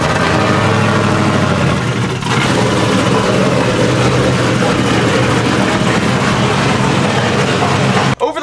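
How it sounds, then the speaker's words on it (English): A supercharged truck engine running lean at idle, a loud, steady, rough drone that continues throughout and cuts off abruptly at the very end. "The problem with it though is idling is all it can do. It barely revs. It runs horribly lean."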